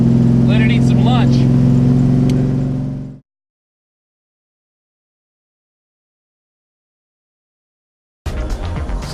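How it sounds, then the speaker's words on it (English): A 1970 Chevelle with a 610 hp, 502 cubic inch GM crate motor rumbles in a low, steady drone under a voice for about three seconds, then silence, then the engine returns briefly near the end. "So this is a 502 cubic inch GM crate motor that you buy from the dealer."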